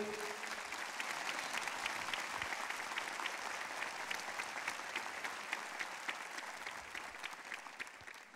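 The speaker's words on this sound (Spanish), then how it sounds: "yo voy a pedir que le dé un fuerte aplauso a Él" Congregation applauding during a Spanish-language church sermon, a steady dense wash of many hands clapping at moderate distance for the whole stretch, without talk.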